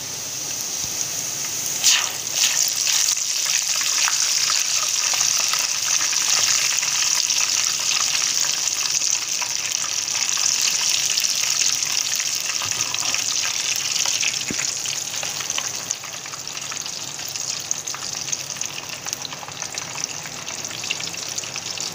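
Chicken roll flatbread sizzles steadily on a hot pan over a high flame, a loud, continuous frying hiss that holds for the whole stretch with a few brief crackles and shifts.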